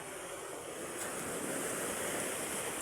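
Strong sea surf crashes steadily against a rocky shoreline, a continuous loud roar of breaking waves with wind noise buffeting the microphone throughout.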